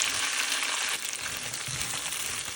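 Frozen okra hits a hot pan and fries with a steady, close hiss of sizzling oil, the crackle softening slightly after the first second as the pieces settle.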